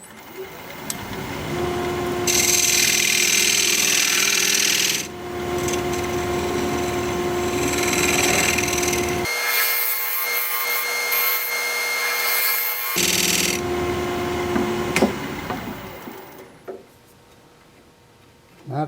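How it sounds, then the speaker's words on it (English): Koa wood spinning on a lathe while a dovetail tool cuts a dovetail into its side, giving steady scraping and rubbing with bursts of bright, hissing cutting noise that fades near the end. "Now I need to raise my tool rest a little and use my dovetail tool. Put a dovetail on the side there."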